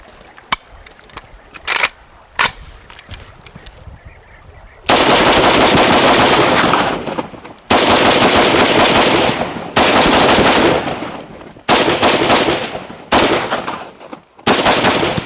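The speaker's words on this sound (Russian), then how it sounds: "Данный дульник, он хорошо стабилизирует автомат, не подбрасывает, но очень громко." Bursts of 7.62 automatic rifle fire through a slotted muzzle brake, very loud and close, with several rapid strings of shots separated by short pauses and a few single reports at the start.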